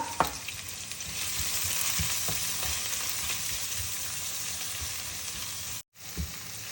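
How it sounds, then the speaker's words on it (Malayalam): Shallots sizzle steadily in a hot pan for a lamb kabsa, with a constant frying hiss and occasional soft stirring knocks, briefly cut to silence near the end before resuming. "ചെറുള്ളി ഇട്ടിട്ട് ഒന്ന് വഴറ്റിയെടുക്കാം"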